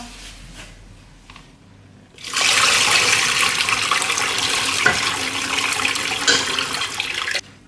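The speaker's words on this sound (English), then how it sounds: "Now we're gonna just get rid of this water that is with our quinoa." Cooking water draining off freshly cooked quinoa, a steady loud rushing pour of liquid that begins abruptly after a quiet start and continues evenly for several seconds before cutting off.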